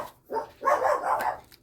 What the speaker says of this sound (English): If you hear my dogs, I'm sorry. I don't know why they barking.